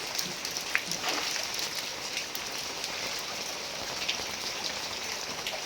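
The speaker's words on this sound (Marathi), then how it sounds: "बघा इथं किती पाऊस आहे" Steady, dense heavy rainfall in Nashik pattering on surfaces, a continuous hiss with scattered louder drops, no voices.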